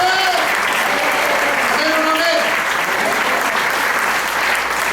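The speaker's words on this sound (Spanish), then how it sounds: "¿Alguien puede dar un aplauso en esta preciosa mañana?" A church congregation at a morning service bursts into sustained, dense applause that holds loud and even throughout, a large crowd of hands with voices and shouts blended in.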